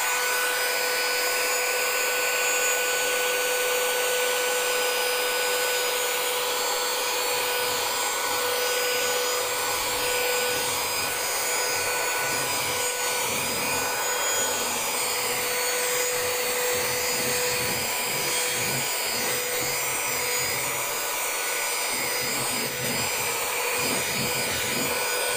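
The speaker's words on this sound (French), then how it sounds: "Et on va aller aspirer." Steady high-pitched whine of a Xiaomi Mijia Cleanfly handheld vacuum cleaner running continuously, with faint scraping and rustling of debris being sucked up, no talking.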